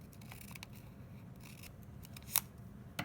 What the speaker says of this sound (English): Grab your scissors. You're gonna cut straight down